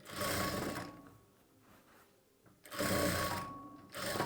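Sewing machine stitching a sleeve piece onto a blouse body, running in two loud close bursts separated by a quieter pause while the fabric is repositioned.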